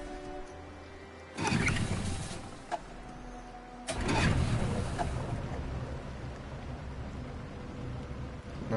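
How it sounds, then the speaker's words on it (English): Boat engine starting up and running in Detroit: Become Human, with a quiet idle that gives way to a loud rumbling surge, a brief knock, then a second burst that settles into a steady churning drone with water noise. "We can use the engine."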